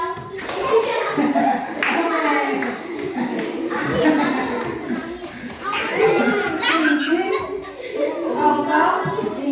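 A group of children claps together in a rhythmic thank-you clapping game, with quick, patterned handclaps mixed with their lively chanting voices in a classroom.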